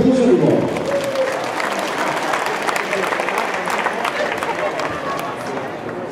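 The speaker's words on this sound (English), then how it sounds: "Give a big round of applause, everyone." Audience applause for cosplay contestants at a Stoke-on-Trent fan convention, a sustained, dense clapping wash that holds steady and loud throughout.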